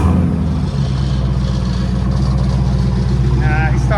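Inside a Dodge Durango R/T, the 5.7 HEMI V8 drones low and steady throughout, a loud continuous cabin rumble with a faint voice near the end.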